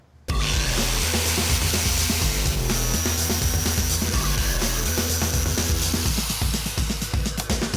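A power tool grinds and cuts through the steel edge of a 1973 Buick Century roof during a top chop, a loud, continuous harsh buzzing close by that holds steady for about seven seconds after an abrupt start.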